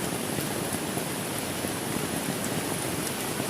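Steady, dense rain patters onto a camping shelter beside a river, a constant close hiss with no breaks and no voices.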